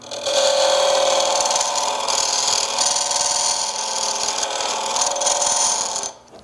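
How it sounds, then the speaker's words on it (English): A screwdriver scrapes out the inside of a small wooden hollow-form amphora on a lathe, a loud, steady rasping and grinding that runs continuously for several seconds before stopping abruptly. "a great thing to use for this is a screwdriver that you go in here, and I can now scrape that right out like that"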